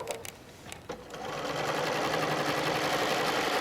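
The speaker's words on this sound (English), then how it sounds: "So I'm just going to sew over that same line" Domestic sewing machine sewing over a seam with a ruler, starting with a few light clicks and then running in a steady, loud, fast mechanical whir.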